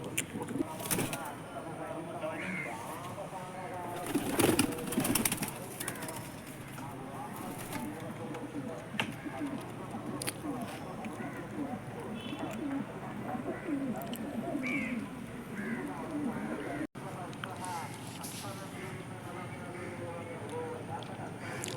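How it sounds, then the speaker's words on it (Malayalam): Young pigeons in a loft coo softly now and then amid a busy background of rustling, fluttering and other bird noises, with no clear speech over it. "ഇതൊരു കുഞ്ഞമ്പ്രാവാണ് അപ്പോൾ ഇതിൻ്റെ ഒന്ന് നമുക്ക് ഒന്ന് വൈക്കൂട്ടിലിട്ട് കാണിച്ചു തരാം"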